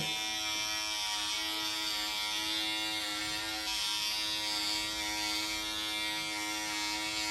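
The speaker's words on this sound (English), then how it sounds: "So I'm going to shave it where I'm going in." An electric clipper buzzes steadily and loudly without a break, shaving a patient's scalp in preparation for an FUE hair transplant.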